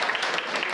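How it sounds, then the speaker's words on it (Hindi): A short burst of audience applause at a comedy stage performance, dense steady clapping throughout. "ताली बजानी पड़ेगी"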